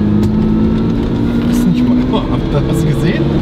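Lamborghini LM002 off-road vehicle cruising at 80 km/h, a loud continuous engine and road drone heard from inside the cabin, with people talking over it.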